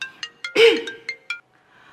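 A phone ringtone plays, a repeating electronic chirp pattern of short bright tones, near and fairly clear, with a brief voice sound breaking in midway.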